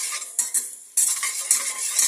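Onions stirred in hot oil in a pan while frying: a utensil scrapes and clacks against the pan in several short strokes over a steady sizzle, close and fairly loud, with no talking.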